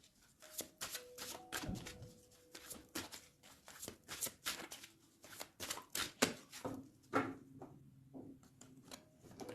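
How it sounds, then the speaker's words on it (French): Tarot cards being shuffled and cut by hand, a rapid run of crisp riffling flicks and soft slaps close up, with faint background tones and no talk. "Je vais faire une petite coupe"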